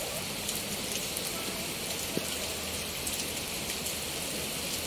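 Steady rain patters down on a surface, an even hiss of drops with occasional sharper taps, moderately loud and uninterrupted.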